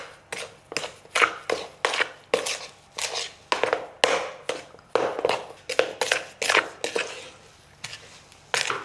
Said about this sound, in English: we just pop it straight into our dry mix like so. And then gotta get mixing to it straight away